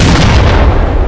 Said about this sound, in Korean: 거대한 절벽이 솟아나고 세상이 폭발한다